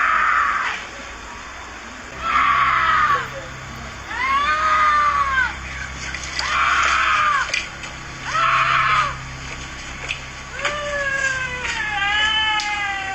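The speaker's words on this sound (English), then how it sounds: "A woman screams out for help as she seemingly walks calmly down the street" A woman lets out a series of long, high, wavering screams, about half a dozen cries separated by short pauses, loud and nearby.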